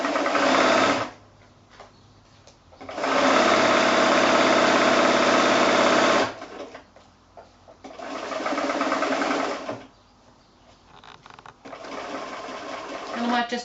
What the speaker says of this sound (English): you're going to be sewing 1/2 inch down from your folded edge all the way around the bag